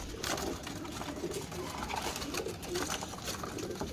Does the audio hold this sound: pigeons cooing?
yes